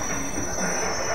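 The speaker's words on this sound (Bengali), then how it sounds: "ট্রেনটা ঢুকুক" A train pulls into Hooghly Ghat station in Chuchura with a steady roar and a high, sustained wheel squeal from the rails, loud and close, without voices.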